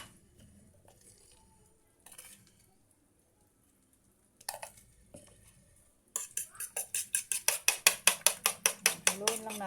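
An egg with pepper being beaten in a bowl, rapid rhythmic clinking of a utensil against the bowl building into a loud, steady series of strokes after a few quieter scrapes and knocks.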